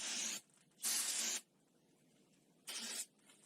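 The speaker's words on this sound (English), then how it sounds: "Spray area with brake cleaner to remove dust particles." Three sharp hissing bursts of aerosol brake cleaner sprayed on a 2007-2013 Toyota Tundra's rear brake area, each lasting about half a second, separated by quiet pauses.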